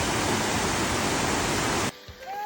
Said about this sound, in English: Atlantic Creek Falls.